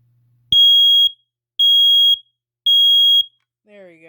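Model I-90-60-CA smoke alarm gives three loud, piercing, evenly spaced beeps close by, each about half a second long, after a sharp click, and a voice speaks briefly afterward.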